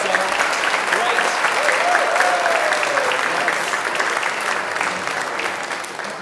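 A church congregation at an Easter Sunday service applauds its volunteers, a dense, steady wash of clapping sustained across the room, with a few voices faintly mixed in before it tapers slightly at the end.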